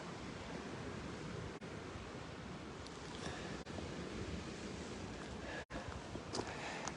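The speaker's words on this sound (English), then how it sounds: "There's a very strong gusty wind from the east." Strong gusty east wind buffets the microphone outdoors on a hillside near the Mount of Beatitudes, a steady loud roar with brief dropouts and no talking.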